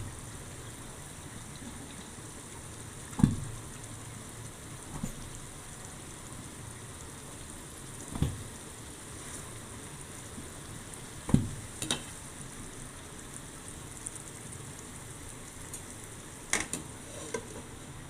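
Fish simmering in mustard oil gives a soft, continuous sizzle and bubbling close by, broken by a few sharp clinks and taps of a utensil against the pan, with no talking.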